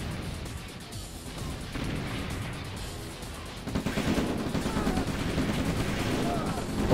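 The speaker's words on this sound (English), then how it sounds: "he's using the artillery to do damage to the riff" Artillery fire in a real-time strategy match, a steady stream of distant booms and crackling blasts that thickens and grows louder partway through, with a voice talking over it.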